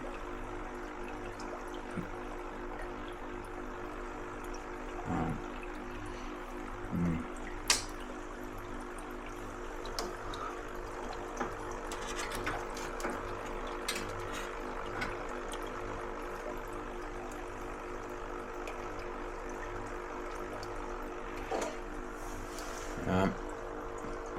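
A loud aquarium air pump hums continuously while pushing air into water-filled totes, a steady, buzzy drone with faint bubbling and occasional small clicks and knocks over about 25 seconds.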